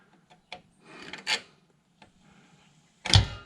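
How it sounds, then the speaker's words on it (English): Pliers knock and scrape against a bolt during a leak repair on a Turbo 350 transmission: scattered rasping rubs and light clicks, then a sharper, louder metallic clank near the end, with no talking. "It's my pliers are hitting that bolt."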